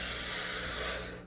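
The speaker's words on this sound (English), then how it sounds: "I take one big fucking rip." A person draws one long, deep inhale through a DMT pipe, a steady breathy hiss lasting just over a second that fades slightly at the end, close and alone.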